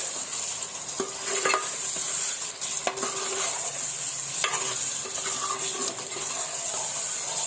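Chicken masala pulao, just sprinkled with a few drops of biryani flavouring, is stirred in a pan: a constant soft sizzle with repeated scraping and knocking spoon strokes against the metal.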